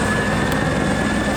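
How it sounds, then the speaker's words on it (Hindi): Steady roar of a helicopter flying low over a huge bathing crowd at the Kumbh Mela on the Ganga, a dense continuous engine and rotor rumble, loud and close throughout with no voices standing out. "योगी खुद हेलीकॉप्टर में बैठ के लोगों के ऊपर पुष्प वर्षा कर रहे हैं।"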